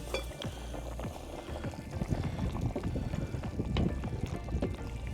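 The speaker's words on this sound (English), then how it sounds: "So the water started boiling." Water boils in a pot nearby, a dense, steady bubbling and gurgling that churns on without pause.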